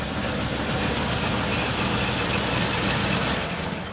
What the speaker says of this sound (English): and the motor starts and runs